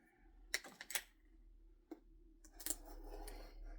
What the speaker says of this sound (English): We'll go with scissors.